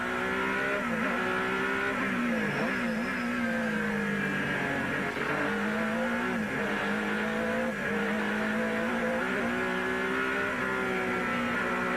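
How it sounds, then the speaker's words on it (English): A high-revving V8 Ferrari race car engine roars continuously at close range during the 1991 Grand Prix of Palm Beach, its pitch rising and falling through gear changes and corners, loud throughout with no talking. "Let's listen to the sound of this V8 Ferrari."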